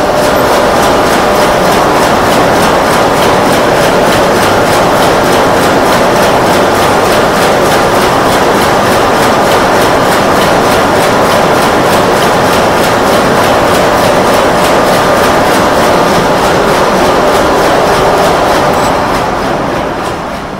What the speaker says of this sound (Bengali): আমি শব্দটাও আপনাদের শোনাচ্ছি যে জাহাজের শব্দ আসলে কীরকম হয়